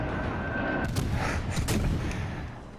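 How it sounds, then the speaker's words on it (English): American destroyer guns fire from a ship in World of Warships Legends, a fast series of loud booming shots and bursts close up, with no voices. "it's American destroyer guns on these things"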